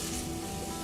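Chopped onion frying in a pan over medium heat for a seafood chowder, giving a brief, steady, close hiss of sizzling with no break.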